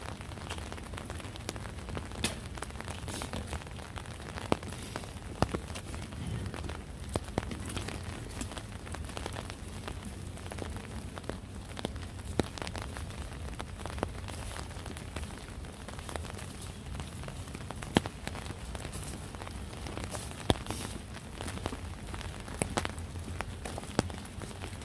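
Rain falls steadily on outdoor surfaces in Philadelphia, a continuous wash of hiss scattered with sharp drop ticks, with no talk.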